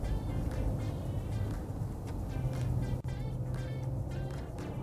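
Maserati Levante Modena S SUV engine in sport mode, a steady low rumble with droning low-pitched tones held close and continuous at low road speed for several seconds.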